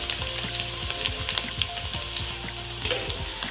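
Chopped green chillies and black pepper frying in a pan for veg Manchurian gravy, a bright constant sizzle with quick rhythmic stirring scrapes up close, with no talk.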